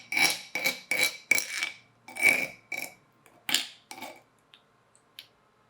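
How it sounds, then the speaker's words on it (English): Scraping and grinding inside a stone molcajete while roasted tomato salsa with jalapeño is mixed, heard as a series of rhythmic rasping strokes, several in quick succession, then sparser and fading, close and fairly loud. "to clean out the sides of the molcajete. That way we can grab any of the jalapeno that was stuck on the sides and really mix it in."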